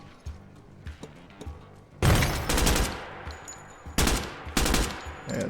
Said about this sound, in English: We'll go ahead and get another frag up here.